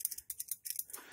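Ganzo G301B multi-tool pivot creaking and clicking as the tool is moved, a quick run of faint, dry scraping ticks up close.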